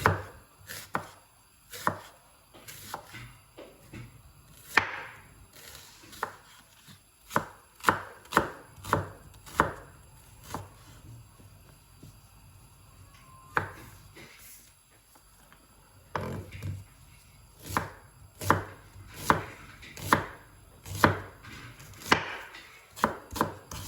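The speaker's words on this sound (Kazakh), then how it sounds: "Енді пиязымызды ұсақтап турайтын боламыз." A knife finely chops onions on a board in quick bursts of sharp, evenly spaced taps, with a short lull partway through before the brisk rhythm resumes, close and clear with no talk.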